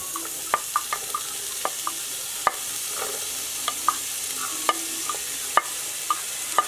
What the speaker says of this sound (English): It's all going in, giving a nice sizzle sound.